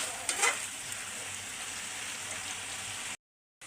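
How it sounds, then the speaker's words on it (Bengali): Potatoes fry in beef fat with ground black and green cardamom, a steady close sizzle with a brief stirring scrape near the start, then an abrupt cut to silence before the sizzle returns. "তো আলুগুলো দিয়ে কিন্তু এগুলো ভালো করে কষাতে হবে।"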